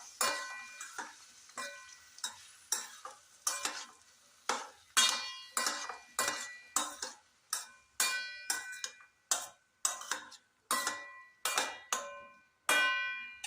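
Payar thoran, a bean stir-fry, stirred in a pan with a metal spoon: about twenty sharp scraping clacks in an irregular, close rhythm, with a faint sizzle between strokes and no voices.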